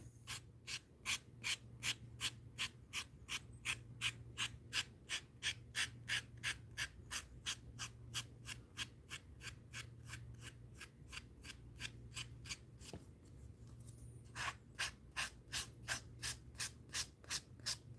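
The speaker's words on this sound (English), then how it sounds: "it's just a very, very fine nail file here" A very fine nail file rasps steadily against a surface being smoothed, with quick regular back-and-forth strokes repeating for the whole stretch. A brief pause comes near the end before the strokes resume, all close up, with a low hum underneath.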